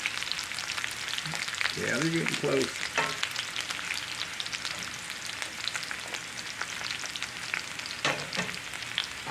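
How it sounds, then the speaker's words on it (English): Potatoes and onions frying in a pan for Southern-style smothered fried potatoes, a steady close sizzle and crackle throughout, with occasional stirring scrapes and a brief voice speaking over it. "That's all you're doing is frying potatoes."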